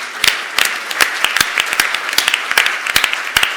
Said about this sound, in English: just a big round of applause to thank you